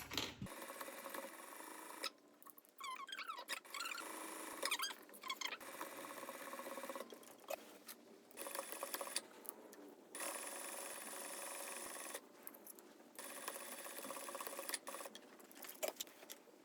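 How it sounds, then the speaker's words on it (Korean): Domestic sewing machine stitching trench coat fabric, running in bursts of steady whirring broken by short pauses, close and fairly loud throughout. "그래서 여기를 박으면은 이렇게 밑으로 들어갈 수 있게 박아 볼게요"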